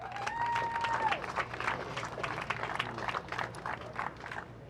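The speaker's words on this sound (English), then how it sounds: "One more round of applause for these 3 races" Audience applause at a podium ceremony for the race winners of the Bridgestone GR86 Championship, Round 5, Race 2, a steady dense clapping with crowd noise and a brief whistle at the start.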